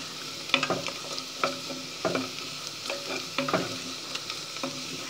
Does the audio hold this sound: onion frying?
yes